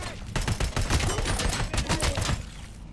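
Heavy gunfire in the RoboCop: Rogue City video game, a dense sustained barrage of overlapping shots and bursts, loud and continuous for nearly three seconds.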